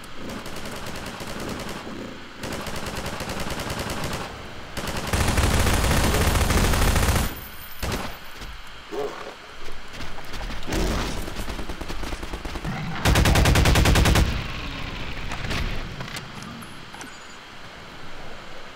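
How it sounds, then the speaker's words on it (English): Gunfire in the video game Half-Life 2 crackles in loud, rapid bursts across the clip, with two heavier blasts standing out, backed by a steady game soundscape. "I almost shot him"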